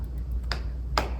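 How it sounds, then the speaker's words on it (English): Two sharp, close hand claps during a children's story time, spaced about half a second apart over a low steady hum. "Can you clap?"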